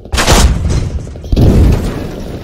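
Two heavy booming tank main-gun shots from a modern battle tank in the military shooter Squad, each a loud close blast followed by a rumbling decay, spaced about a second apart.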